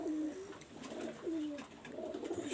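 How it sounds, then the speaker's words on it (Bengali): KTM pigeon cooing up close, a run of soft, rolling coos repeated in a steady rhythm. "এটা একটা কেটিএম কবুতর"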